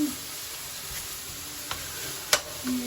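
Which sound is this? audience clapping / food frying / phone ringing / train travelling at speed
food frying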